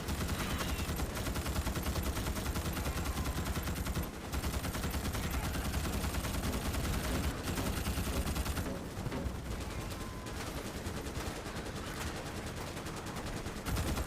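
Relentless automatic gunfire in the sci-fi shooter Starship Troopers Extermination, a dense, loud, continuous hail of rifle shots with brief dips and constant chatter of weapons throughout.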